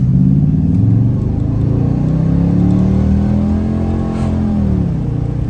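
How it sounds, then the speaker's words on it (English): A 1996 Chevrolet Impala SS on the road, its V8 engine and exhaust rumbling loudly and rising in pitch as it accelerates, then easing off near the end, heard close from inside the car. "Sounds great though, I mean, the exhaust."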